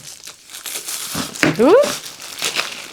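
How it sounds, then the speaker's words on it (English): Cellophane wrapping crinkles and tears as it is pulled off a diamond painting kit, in short crackly bursts, with someone speaking over it and one brief exclamation. "I'm going to get the cellophane off"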